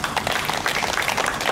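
A church congregation applauds together, a dense, steady wash of many hands clapping at close range with no talk over it.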